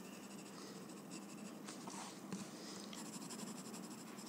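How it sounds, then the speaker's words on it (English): Thick graphite pencil shading on paper, a steady close scratchy rasp of the lead rubbing back and forth, continuous and fairly quiet with no one talking. "So I'm just going to add some thick graphite here inside."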